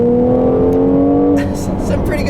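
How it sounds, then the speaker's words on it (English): A 2017 Mercedes-AMG GLC 43 Coupe's exhaust revs loudly and close, a steady rising engine note that drops off with a short burst of crackle at the end. "I love the sound you get out of that exhaust"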